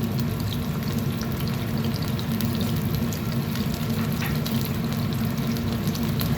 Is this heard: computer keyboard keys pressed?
no